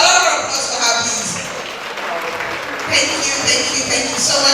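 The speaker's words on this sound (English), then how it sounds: "Please, a lot of applause for her, please." Audience at a women's forum applauding a speaker, a busy wash of clapping with voices mixed in, dipping briefly in the middle before swelling again.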